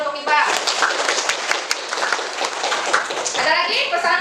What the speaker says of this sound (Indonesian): Tepuk tangan untuk Iqbal.